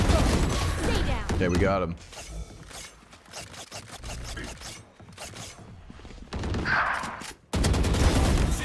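Gunfire in a team deathmatch shooter on the Drift map, heard as dense bursts of shots and mechanical clatter that rise and fall under excited voices of players talking throughout.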